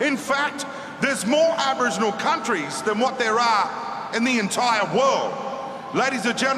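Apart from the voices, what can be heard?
No everyday noise stands out behind the speech.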